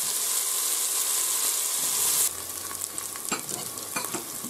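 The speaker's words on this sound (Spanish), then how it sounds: "la cebolla y los ajos y los tenemos que rehogar 5 minutos" Onion and garlic sauté in a pan, a steady loud sizzle that drops to a lower, gentler hiss partway through, with occasional scrapes and clicks of stirring.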